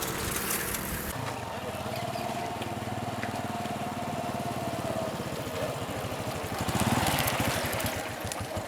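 A motorcycle engine runs steadily at a fairly close distance, a low continuous drone that swells slightly louder toward the end, with faint voices around it.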